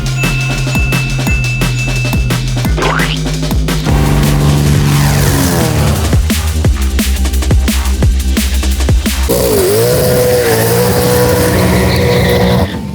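A Ford Falcon V8 supercar and a Nismo Super GT Nissan 350Z drag race: loud engines rev and roar through rising gear changes, tires squeal, and a high whine climbs near the end, all continuous and close.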